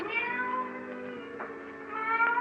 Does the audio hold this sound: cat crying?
yes